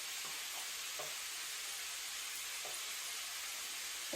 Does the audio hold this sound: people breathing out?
no